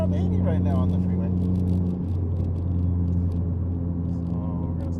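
A Ford Fiesta ST fitted with a tubular manifold accelerates up a freeway on-ramp, its engine a steady, loud droning rumble that eases slightly partway through, with speech from people inside over it.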